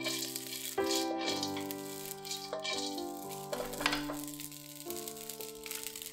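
Egg fried rice with pine nuts heating in a pan while the rice is loosened, soft sizzling and rattling stirs close by, with sustained musical tones running underneath throughout.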